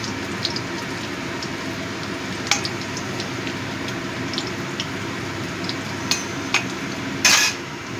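Eggplant slices fry in a pan with a steady, rain-like crackle and sizzle, broken by a few brief clicks and a short louder scrape near the end as the pieces are flipped.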